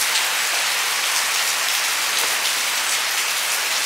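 Steady rain falls and patters on a surface, a dense, even hiss of drops with no voices.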